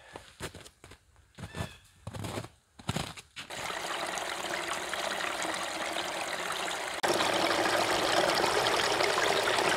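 A clear stream flows through a snowy bushcraft campsite. After a few seconds of crunching footsteps, steady rushing water takes over, close and continuous, and grows louder toward the end.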